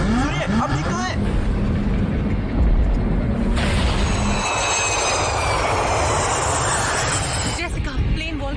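An airplane engine drones steadily in flight while the aircraft passes through a volcanic ash cloud; the loud, constant roar carries beneath talking voices, and its tone shifts partway through.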